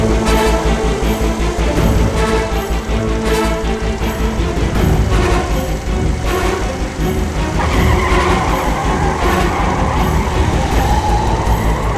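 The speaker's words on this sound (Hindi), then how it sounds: "वहां से जरा गोल गोल घुमाना तो गाड़ी।" A car is driven round and round in circles, its engine running steadily throughout with tires squealing and skidding, loud and close with no talking.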